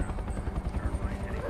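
A helicopter in a zombie film, its rotor thudding in a continuous fast beat at moderate distance, with soldiers firing at zombies nearby and voices mixed in over the engine.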